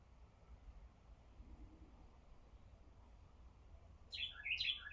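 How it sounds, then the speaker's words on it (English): A little brown finch gives a quick burst of bright chirps near the end, after a quiet stretch of faint outdoor background hiss, close and clear. "Little brown finch right here."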